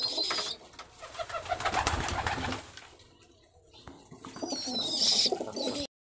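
Geribaj fancy pigeons, healthy breeding birds in a loft, coo in soft repeated throaty rolls at close range, with a few higher chirps and faint background noise between calls.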